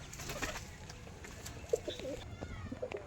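A flock of about thirty pigeons, mostly males, coos softly in the background with a few brief clearer calls, no talk over them.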